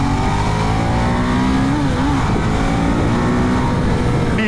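A Ducati Diavel 1198 motorcycle pulls hard in second gear, a loud, close engine roar with rising pitch under constant wind buffeting, no talk.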